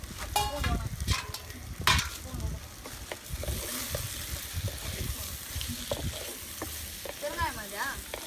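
Ginger garlic paste fries in a pan during traditional village cooking of big prawn kulambu, a continuous close sizzle mixed with stirring scrapes, and faint voices in the background.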